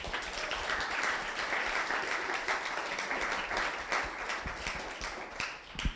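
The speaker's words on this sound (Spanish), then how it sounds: "Dale un aplauso a Dios." A congregation at a Spanish-language church service breaks into steady, sustained applause, a dense wash of many hands clapping at moderate volume for several seconds.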